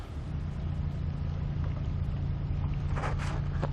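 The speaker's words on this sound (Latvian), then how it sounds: "Un re, kur tieši nāk lielais prāms." A large ferry approaches across open water with a low, steady engine drone that stays level throughout, heard from a distance along with some wind buffeting.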